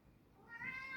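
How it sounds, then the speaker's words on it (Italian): A talkative pet cat gives one short, close meow that rises at the end, heard alone in a quiet room. "c'ho il gatto chiacchierone stamattina"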